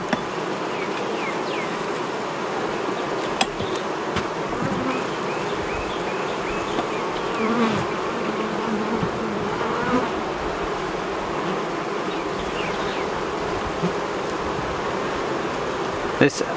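Honeybees swarm in an open beehive during a frame inspection, a dense continuous buzz that stays steady and close throughout, with a few faint clicks and knocks from the hive box.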